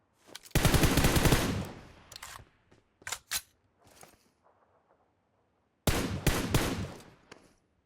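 Gunfire in the PUBG Mobile battle royale game, with loud bursts of automatic fire, a few short separate shots and then another sustained burst, close and sharp, with no talking over it.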